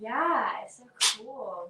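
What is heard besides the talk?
sneeze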